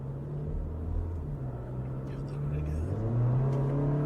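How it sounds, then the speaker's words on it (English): A 2024 Porsche Macan engine builds under throttle from inside the cabin, a rising, moderately loud rumble that swells toward the end while a person talks over it. "One thing that you'll never forget if you've driven a Porsche is that Porsche grunt and throttle to a certain RPM"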